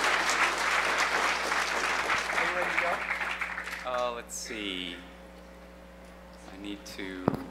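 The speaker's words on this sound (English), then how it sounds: "Give him a round of applause just for his hair." Audience at a hacker conference talk bursts into a round of applause, dense clapping filling the first few seconds before it thins out and a voice takes over.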